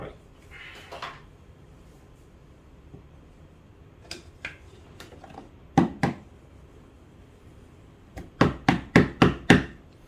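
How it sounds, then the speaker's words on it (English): Several hard knocks of a metal milk pitcher on a counter, a few scattered taps followed by a quick run of five or six firm thuds. "just knock the pitcher against something hard to get rid of all the small tiny bubbles."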